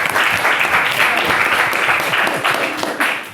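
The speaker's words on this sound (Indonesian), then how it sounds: "Oke, tepuk tangan dulu semuanya." Dense, steady clapping from a classroom of students fills the whole moment, loud and close, with no talking over it.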